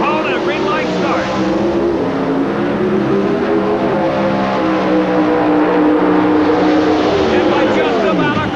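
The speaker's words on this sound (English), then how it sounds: "There's Lapone and a green light start" Drag racing cars at the 1987 Chief Auto Parts Nationals, Texas Motorplex, roar off the line together, a loud sustained engine blast that climbs in pitch and fades away down the strip while a commentator talks over it.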